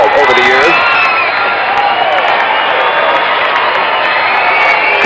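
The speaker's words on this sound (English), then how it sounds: "He will hear the roar of the crowd." A large crowd roars and cheers before a daredevil motorcycle jump at Kings Island in 1975, a loud, sustained wall of shouting and whooping with the announcer talking over it.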